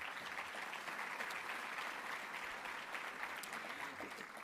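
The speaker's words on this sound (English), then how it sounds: "One more round of applause for them" An awards gala audience gives a round of applause, a dense, even wash of many hands clapping, steady and fairly distant throughout.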